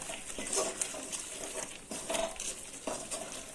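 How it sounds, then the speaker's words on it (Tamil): Masala paste and curry masala powder being lightly sautéed and stirred in a pan for a Tamil fried-egg gravy, with soft scraping and clinking of a spoon against metal in short intermittent strokes, close and quiet. "லேசாக வதக்கி விட்டுருவோம்."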